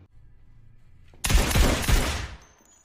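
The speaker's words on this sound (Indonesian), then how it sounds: "terdengar suara tembakan" A sudden burst of loud gunfire, several rapid shots in quick succession over about a second, after a quiet low rumble.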